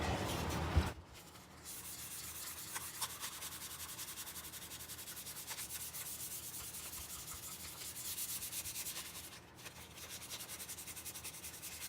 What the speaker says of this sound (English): Notice I'm not using a sanding block. I'm just trusting the feel.